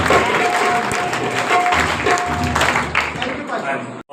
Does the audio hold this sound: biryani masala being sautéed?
no